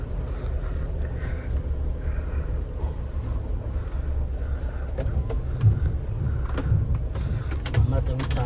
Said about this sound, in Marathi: तशी मी गाडी चालवतोय बघा.